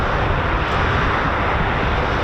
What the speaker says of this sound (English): This is a highly modified special ops variant of the C-130.